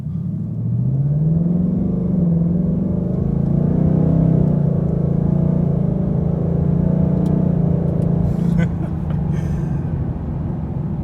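A 2021 Ford Mustang accelerates from inside the cabin, its engine rumbling loud and steady as it climbs through several gear changes in smooth succession, then drops away abruptly near the end.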